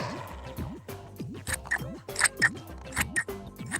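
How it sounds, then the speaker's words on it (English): Scissors snip through folded card in a quick run of crisp cuts, each closing blade giving a sharp, close crunching click in an uneven rhythm. "Now, keep your card folded and cut out your shapes."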